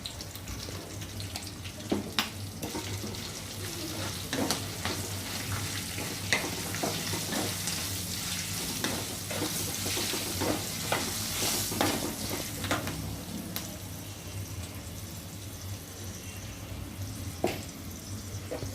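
Curry leaves and turmeric sizzle in hot oil for pulihora while a spoon stirs and scrapes the pan, a steady close fry with occasional clinks and no talk.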